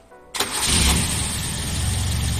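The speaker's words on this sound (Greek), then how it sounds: "Με μισή μίζα παίρνει." A BMW 320ci with a new turbo cranks briefly and fires up, the engine catching quickly into a loud, steady idle that carries through to the end.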